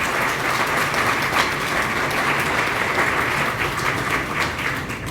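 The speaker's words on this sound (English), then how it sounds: "Let's have one final round of applause for our STAR teachers and STAR students." At a school awards ceremony for teachers and students, a large audience keeps up steady, full applause throughout, thick and even with no talking over it.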